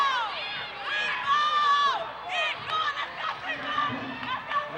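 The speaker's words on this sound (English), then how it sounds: "And the crowd is really going wild right now." A crowd at a varsity basketball game, shouting and cheering with high excited voices and screams rising and falling throughout, loud and dense, close by.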